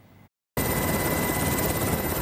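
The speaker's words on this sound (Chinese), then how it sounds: "直升机飞到花莲万荣乡万里溪上空" A helicopter flies over the Wanli River in Wanrong Township, Hualien. After a brief silent gap, a loud, steady rotor and engine roar continues without a break and sounds close and constant.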